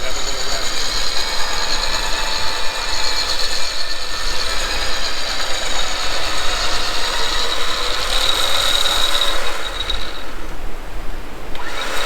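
Winch motor running on an off-road vehicle, a sustained whirring, ratcheting mechanical drone with a high pitched whine that holds steady, briefly sharpens, then fades near the end, moderately loud and close.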